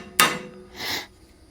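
A single sharp metallic tap from an improvised valve tool used as a hammer during valve stem seal work on a car engine, followed by a brief softer scrape or knock, close and alone.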